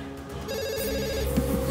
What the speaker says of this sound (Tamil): somebody please answer the phone